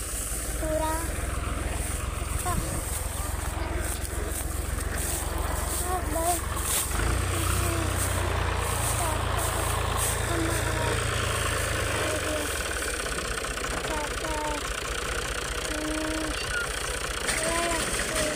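A tractor engine idles with a steady low rumble throughout during a wheat harvest, while people talk intermittently over it.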